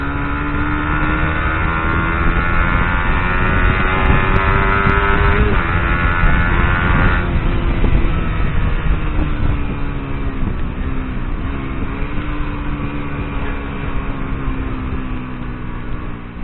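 Suzuki GSX-R150 motorcycle with a Juken 5 Racing Turbo exhaust, engine held at steady high revs on launch control, then accelerating up through gears, loud and close with no talk.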